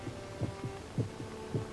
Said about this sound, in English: almost in rhythm with the beating of his own heart